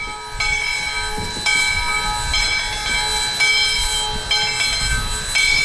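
Steam locomotive 148, a restored U.S. Sugar engine in South Florida, passes by with a rhythmic series of whistle or hiss tones repeating over a low rumble, fairly close and steady.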